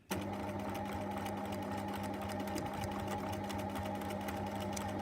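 Sewing machine running continuously while stitching a welt seam, a steady rapid mechanical whir and needle chatter, close and alone with no talk.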